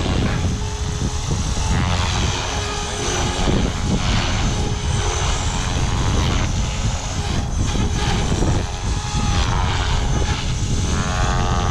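A buzzing rotor drone and tail whine from a Blade Fusion 360 model helicopter, steady and loud throughout, with wind noise mixed in.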